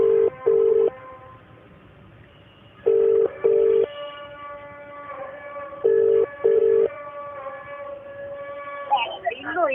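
Telephone keypad dialed in bursts: two paired tones, a long pause, two more, another pause and two more, each short and loud, with a steady background hum in between and brief rustling at the end.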